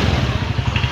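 A TVS Ntorq special edition scooter exhaust burbles in a steady, close, fairly loud pulsing note, with no talking over it.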